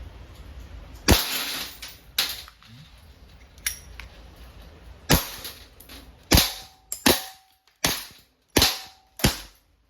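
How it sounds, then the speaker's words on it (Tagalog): Ares airsoft Smith & Wesson full metal revolver with 2.5-inch barrel fires a series of sharp, close cracks: a few spaced shots, then a quicker run of shots with brief mechanical clicks between them. "Okay, and firing, Smith & Wesson revolver."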